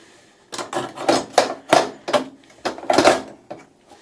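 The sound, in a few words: putting screws back into a device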